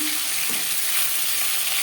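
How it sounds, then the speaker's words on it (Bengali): Rui fish lightly frying in oil in a pan, heard as a steady, close, even sizzle for a short stretch with no talking. "মাছ আমি হালকা করে ভেজে নিলাম"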